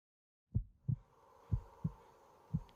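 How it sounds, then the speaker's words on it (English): Low, thumping heartbeat sound effect under a scary forest story, five muffled beats in an uneven lub-dub rhythm, close and soft over a faint hum, with no speech. "He could feel his heart pounding in his chest"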